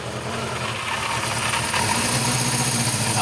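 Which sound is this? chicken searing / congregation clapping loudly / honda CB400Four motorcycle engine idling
honda CB400Four motorcycle engine idling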